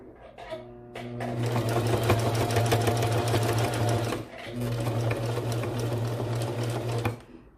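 A sewing machine stitches a straight seam through fabric for a baby bandana bib, a loud steady mechanical whir with a rhythmic needle chatter, running in two long bursts with a brief stop between.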